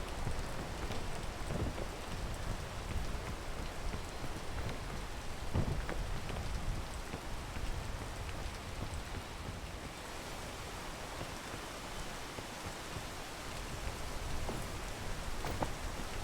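Steady rain hiss in the video game PEAK, a continuous broadband wash with scattered droplet ticks and a few louder patters, moderately loud and unbroken with no voices.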